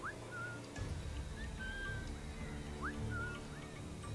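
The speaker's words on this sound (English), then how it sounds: "Let's keep whistling until he hears me." Edward whistles in Assassin's Creed 4 on PS4, several short rising tones repeated over quiet game ambience to draw a guard's attention.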